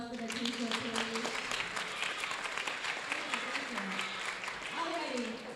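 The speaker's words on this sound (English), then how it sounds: "Can I get a round of applause for the t-shirt, please?" Audience applause at a university ACM student club open house, a steady wash of clapping from a crowd with voices talking over it throughout.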